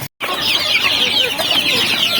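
Village chickens clucking together while being fed an alternative feed, a dense, close chorus of overlapping clucks after a brief cut at the start.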